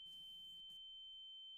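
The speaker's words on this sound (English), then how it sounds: "I can't tell if my ear is ringing or if that's in the video." A thin, steady high-pitched ringing tone runs unbroken through a horror film, faint and constant, with a brief soft rustle near the start.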